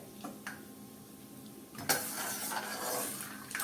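Peanuts roasting in hot oil in a kadai over a low flame, a few light clicks of a spoon giving way to a steady, faint sizzling hiss as they are stirred.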